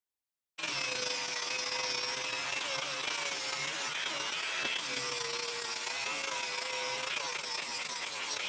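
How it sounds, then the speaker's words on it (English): A power grinder works on metal for a tiny tractor build, a steady close whine with a hissing rasp that starts abruptly and continues without a break. "now I'm gonna be grinding, so I can't say much"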